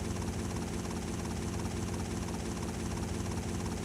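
A helicopter in GTA Vice City Stories flies with a steady, dense rotor chop and engine whine, constant and unbroken throughout, with no speech.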